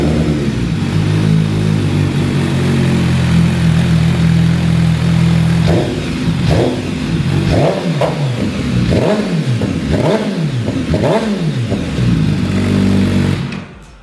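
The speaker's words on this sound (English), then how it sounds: "we'll give you a stock exhaust startup and a little bit of revs" An MV Agusta Brutale 1000RR motorcycle with a stock exhaust idles loudly, then revs up several times in short rising bursts before cutting off.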